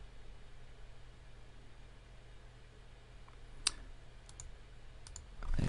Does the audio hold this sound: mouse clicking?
yes